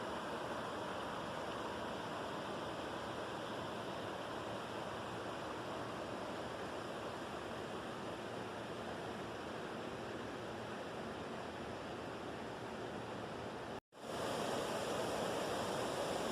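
Water rushing over a river weir during a salmon run in Etienne Brule Park, Toronto: a loud, continuous broadband roar that holds steady throughout, with one brief dropout near the end.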